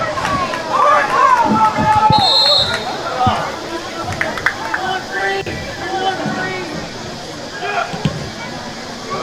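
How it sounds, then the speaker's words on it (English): Spectators at a high school boys soccer match against South Webster grow restless, a dense, steady crowd hubbub of overlapping voices and shouts with occasional whistle-like tones and scattered thumps throughout. "Crowd's getting a little bit upset right now"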